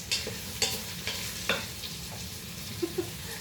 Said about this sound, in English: So see, saute. That sounds like it.